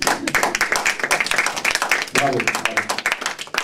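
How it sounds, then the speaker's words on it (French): An audience claps in a lively, uneven burst of applause, individual claps distinct and close, while someone calls out over it. "On peut les applaudir. Applaudissez."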